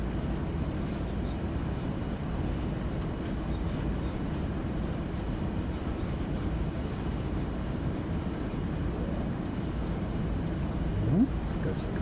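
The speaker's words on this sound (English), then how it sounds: "Goes the compressor." A locomotive air compressor runs steadily in Train Sim World 3 on Cajon Pass, a continuous low mechanical drone with a faint rising whine near the end.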